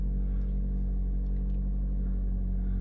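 A Toyota Corolla Cross XR running on ethanol idles slightly high just after starting, a steady low engine hum heard from inside or near the car, quiet and unbroken with no talk.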